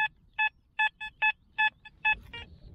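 A metal detector emits a series of short, evenly spaced electronic beeps while sweeping a field in search of Roman coins, each tone brief and clear against a quiet background.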